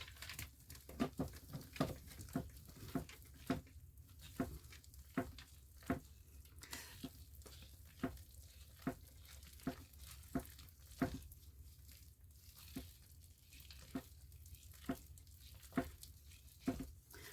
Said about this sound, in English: I'm just going to give this another stir